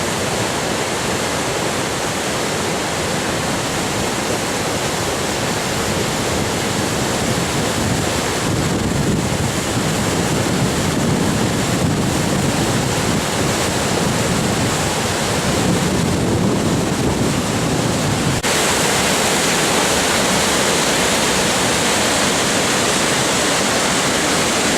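A flooding river rushes past in a loud, continuous, broadband roar that holds steady throughout, with wind buffeting the microphone.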